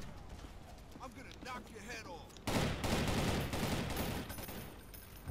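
Gunfire in the zombie shooter Zombie Panic Source, a sudden loud rapid volley of shots after players talk, continuing for several seconds.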